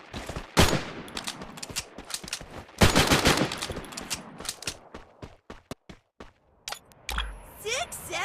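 Gunfire in a video game, with loud sniper cracks and bursts of rapid shots scattered across the scene, separated by short gaps and quieter game noises.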